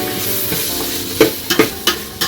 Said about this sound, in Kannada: ಈಗ ನಾನು ಟೊಮೆಟೊ ಹಾಕೋತಾ ಇದ್ದೀನಿ ಇವಾಗ.